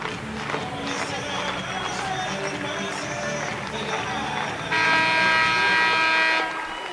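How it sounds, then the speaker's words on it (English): A loud, sustained basketball arena buzzer blares for about two seconds at Wells Fargo Arena during a high school state tournament game, cutting in over crowd noise and background music. "There's the buzzer"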